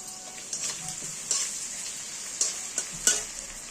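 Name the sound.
grated ginger frying in hot oil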